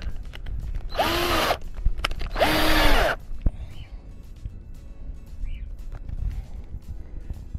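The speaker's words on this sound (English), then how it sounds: "get this first pilot hole drilled" A power drill drilling a pilot hole for small screws in a top bar swarm box whirs in two short bursts close by, pitch rising and falling, followed by quieter handling sounds.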